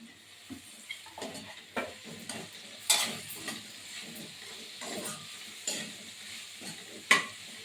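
Curry leaves and tomatoes with onions sauté in a pan for kothu chapathi, sizzling softly while a spoon stirs and scrapes against the metal in irregular strokes, with a few sharper clinks.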